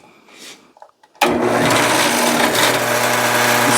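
A benchtop drill press in a workshop starts abruptly after a few quiet clicks and then runs loud and steady, its motor whining with a constant broadband roar and hum.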